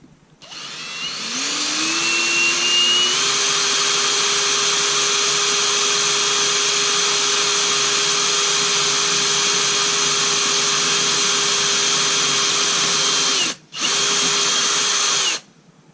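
A power drill spins up and whines at a steady high pitch for several seconds, stops briefly, then runs again, loud and close, drilling a pilot hole for a Lambretta GP 125 scooter toolbox.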